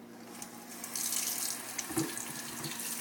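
Water runs steadily from a tap into a sink, a continuous broadband hiss with a faint low hum beneath and a brief splash partway through.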